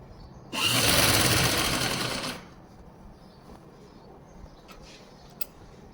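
A sewing machine runs in one fast continuous burst of about two seconds, stitching elastic onto an Afghani trouser, then stops, leaving quiet room tone with a few faint clicks.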